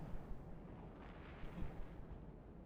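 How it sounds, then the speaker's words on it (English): A rocket launching in the video game Borderlands 3, a broad rumbling roar with a surge in the middle, steady and fairly loud without talk. "Launching the rocket."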